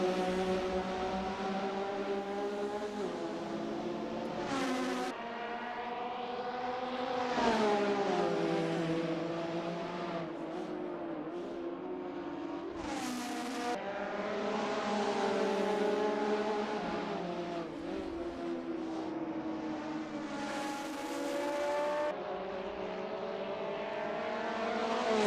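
A Jaguar XJ13 race car engine in Assetto Corsa, racing around the Nordschleife: loud, continuous high-revving howl rising and falling through repeated gear changes, with a few sharp upshift breaks, no talk.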